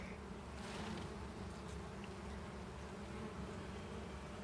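Honeybees buzz in a dense, steady drone around a hive frame of capped pollen as it is shaken. The swarm sound is faint and constant throughout, with no voices.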